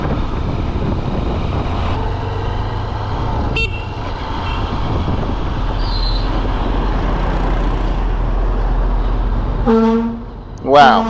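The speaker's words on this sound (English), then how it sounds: "You see that truck is beeping louder." Truck horn honking in road traffic on a Vietnamese mountain route, heard amid engine and road rumble, with a short toot partway through and louder, nearer blasts near the end, while someone talks.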